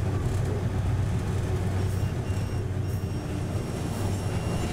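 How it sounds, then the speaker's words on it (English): A train in Myanmar rolls through railway switches, a steady low rumble of wheels and carriages heard from on board without a break. "the train passes through a system of switches that allow it to go back and forth"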